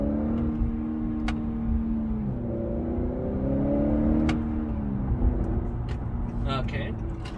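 A car pulling away in sport mode with paddle-shifted gears, engine tone rising and stepping through several pitch changes over a low road rumble, moderately loud with faint voices.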